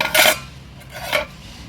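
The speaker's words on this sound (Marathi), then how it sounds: "2 मिनिटं झाली आहेत, झाकण काढून घेऊया आपण" Two short metallic scrapes of a lid lifted off a cooking pot of raw mango pickle, the first louder, the second softer about a second later, with no talk.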